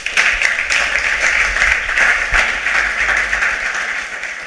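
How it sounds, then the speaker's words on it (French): An audience at a personal-development masterclass breaks into loud, dense applause that holds strong for several seconds before easing slightly at the end. "Applaudissez."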